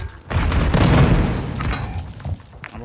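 Explosions in Modern Warfare 2 on PS4: heavy overlapping blasts and a shattering crash hit close and loud, then trail off into smaller thuds and debris.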